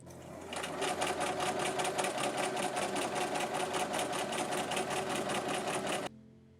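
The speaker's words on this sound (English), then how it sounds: "stitched down the seam allowance on either side of those seams, just so that the bones could easily slide through" A sewing machine runs in one steady, fast burst for several seconds, stitching down seam allowances on an 1860s cage crinoline, then stops abruptly.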